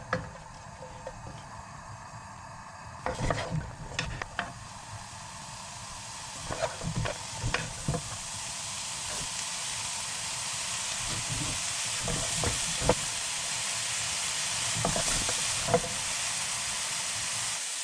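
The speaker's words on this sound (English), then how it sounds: "you can add a little more heat and then just stir them around until they're cooked for a couple of minutes" Spinach and potatoes for saag aloo stirred in a hot pan, a steady close sizzle with bursts of spatula scraping and tossing throughout.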